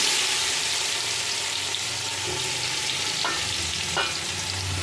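Chopped onion pieces fry in white oil and butter in a pan for chicken biryani, a steady close sizzle with a couple of brief stirring scrapes, no talking.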